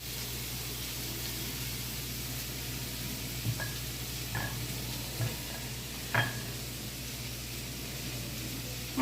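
Cabbage frying in a pan for a Jain veg chilli dish, with a steady broad sizzle throughout and several sharp scrapes and knocks of a spoon stirring it, close up and with no talking.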